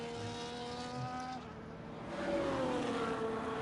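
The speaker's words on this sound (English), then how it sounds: "It sounds like he might be off of the throttle here" An F1 race car engine in a racing game at the Monaco GP, its steady high whine dropping in pitch as the driver eases off the throttle, then a second engine tone rising behind it.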